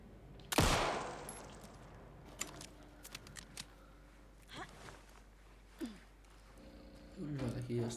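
Gunfire from the video game Alan Wake 2: one loud, sharp shot near the start, then a few fainter clicks and bursts over quiet ambient game sound, with a voice speaking near the end.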